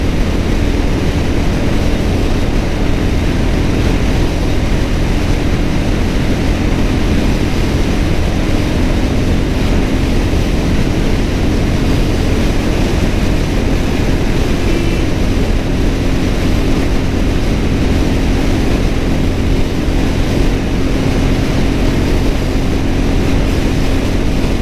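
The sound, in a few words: vehicle engine driving in fifth gear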